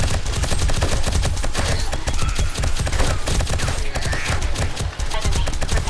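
Automated turrets in the video game 7 Days to Die fire at a zombie horde in loud, continuous, rapid bursts of gunfire that run unbroken throughout.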